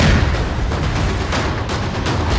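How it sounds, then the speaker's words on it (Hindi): A blast demolishes a house in Pulwama, Kashmir, heard as a loud, sustained roar of explosion and rumbling debris close by. "और जोरदार ब्लास्ट।"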